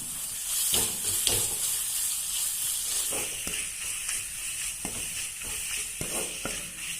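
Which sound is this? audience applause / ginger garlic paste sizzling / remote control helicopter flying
ginger garlic paste sizzling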